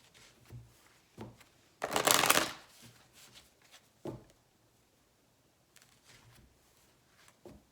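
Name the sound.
tarot cards being shuffled and the deck split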